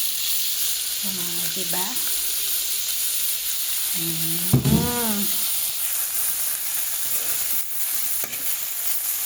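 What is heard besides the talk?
vegetables added to the pan sizzling while frying spring roll filling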